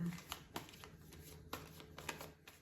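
Tarot cards being shuffled close up, soft papery riffles and light taps in an irregular rhythm, quiet and faint against a low hum.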